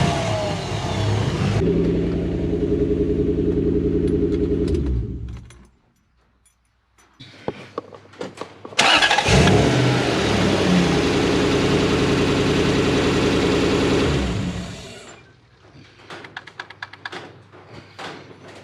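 Toyota Hilux LN106 with a swapped 1UZ V8 and automatic gearbox, loud and close, running at a steady idle with a deep rumble, cutting out briefly, then firing again with a rev and settling back into an even idle before tapering off.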